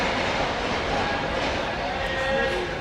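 Garib Rath express train running past on an Indian railway, a steady loud rumble of wheels and carriages that fills the whole moment, with faint clatter on top.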